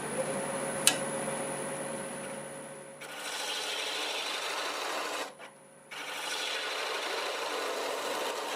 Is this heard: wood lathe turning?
yes